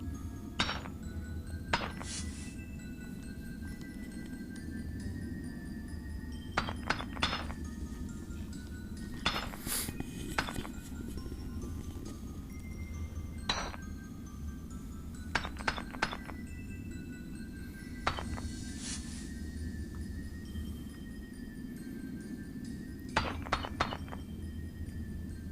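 Repeated clinking metallic hits in RuneScape while smelting iron bars at a furnace, short clusters of bright taps recurring every few seconds over a steady low game ambience hum.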